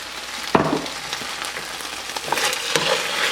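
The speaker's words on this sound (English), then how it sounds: "You'll stir fry this till the color is even on the chicken." Chicken stir-frying in a pan with a splash of soy sauce, a continuous close sizzle broken by sharp clanks and scrapes of stirring, no voices.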